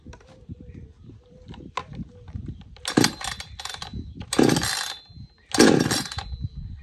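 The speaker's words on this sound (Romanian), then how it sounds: "vom acționa demarorul până când auzim că motorul drujbei a dat să pornească" Rapid bursts of pull-cord rattling alternate with three short, loud engine sputters as the small two-stroke motor of an O'MAC MF 46 chainsaw tries to catch.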